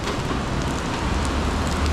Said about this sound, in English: I thought it was sleeting. It's coming down so hard.